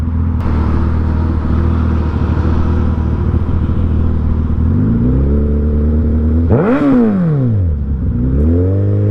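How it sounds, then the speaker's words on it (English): A motorcycle engine rumbles loud and close while riding through traffic, idling and lugging low, then rising and falling in pitch as the rider revs and shifts, with a sharp rev surge followed by another climb. "I'm on a motorcycle."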